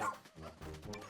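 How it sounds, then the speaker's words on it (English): A dog creature in the video game Pikmin 4 lets out quick barks and yips, fairly faint and close, over soft game background sounds. "Here, Ochi, take down that dog"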